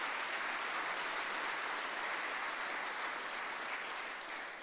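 Audience applause during a faith-themed inspirational speaking event, a steady, dense wash of clapping at moderate distance that holds evenly for several seconds before tapering slightly at the end.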